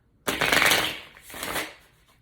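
Tarot cards are shuffled by hand in two close, crisp riffling bursts, the first longer and louder, the second softer, with no talk over them.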